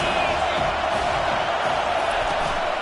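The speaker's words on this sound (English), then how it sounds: "this crowd is tearing the lid off this place" A football stadium crowd roars continuously during a play, a dense, loud, unbroken wash of cheering with no pauses across the whole stretch.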